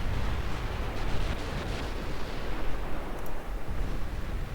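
Naval guns firing armor-piercing shells in Ultimate Admiral Dreadnoughts, a loud, continuous rumbling roar of heavy gunfire and booms blending into a dense wash, with no talking.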